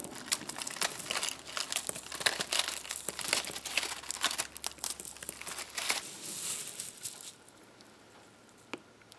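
Dried Indian corn kernels crackle and crinkle as the cob is twisted, a dense run of close, dry rustling snaps that thins out into a few scattered clicks.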